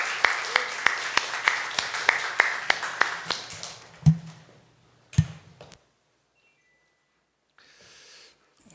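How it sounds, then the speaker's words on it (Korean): Church congregation clapping during a Sunday worship service, a steady rhythmic beat of claps for about four seconds, then a couple of final sharp claps before the room falls nearly silent. "하나님 앞에 큰 박수를 올리겠습니다."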